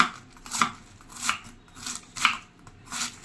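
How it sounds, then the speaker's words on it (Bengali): A knife chopping cabbage on a board, five crisp, evenly spaced cuts about two-thirds of a second apart, close and clear with no talking. "ফটফট করে এখন বাঁধাকপিটা কাটছি"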